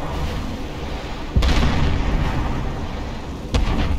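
Cruise missile explosions in C&C Generals, two heavy booming blasts a couple of seconds apart that land over a dense, constant rumble, each one hitting abruptly and then rolling on.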